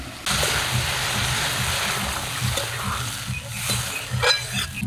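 Water poured into a hot pan of onion-tomato masala for a rui fish curry sets off a loud, abrupt hiss. The hiss settles into continuous close sizzling and bubbling with faint stirring scrapes.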